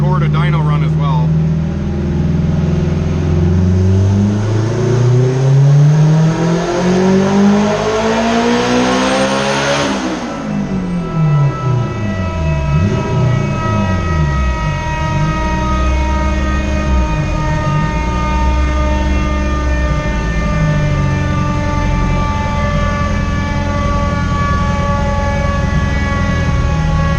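A turbocharged Acura RSX engine runs hard on a dyno, its harmonics sweeping upward through a full pull and then falling back to a steady, loud drone. The sound is close and continuous, with a faint voice underneath.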